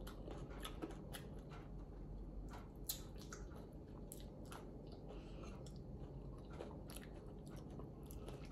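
Crunchy fish bones being chewed close up, a steady run of soft crunching and squishing bites over a quiet room, with no talking.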